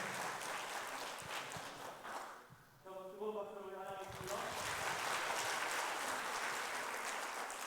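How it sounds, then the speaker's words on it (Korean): A church congregation applauds during a Sunday worship service, dense clapping that fades out, gives way to a short spoken phrase, then swells again and carries on steadily to the end. "힘찬 박수로 환영해 주시기 바랍니다"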